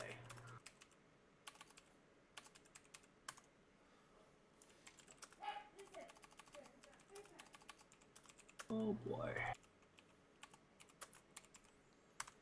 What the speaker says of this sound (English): Sorry, I'm typing a lot here.